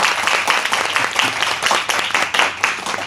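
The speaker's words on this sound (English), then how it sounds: "Please give a big round of applause." Audience at a full-day business seminar applauds, a loud, continuous rush of many hands clapping with slight swells, over a faint low hum in the room.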